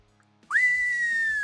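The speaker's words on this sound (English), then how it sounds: "Conspicuous whistle." A single loud whistle rises sharply, then holds as a long, steady, slightly falling tone lasting about a second, clear and close with no talk over it.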